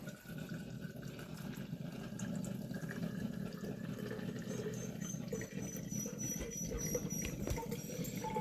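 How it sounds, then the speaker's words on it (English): Homemade turkey broth poured from a spouted vessel into a jar, a soft continuous trickle and patter of liquid close by, fairly quiet and without talk. "I'll pour it into my jar"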